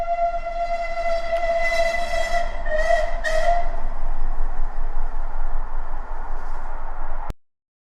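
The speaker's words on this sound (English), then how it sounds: "I'll put a steam train noise in now." A steam train chugs along steadily with a rumbling roll, its whistle sounding in a few shrill blasts, loud and close, then cutting off abruptly.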